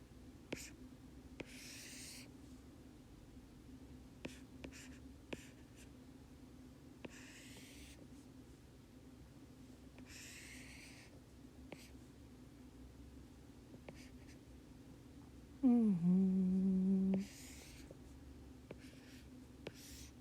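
Pencil or pen scratches out a quick sketch on paper in soft, intermittent strokes over a quiet hum, close and faint, with a brief louder tonal sound near the end.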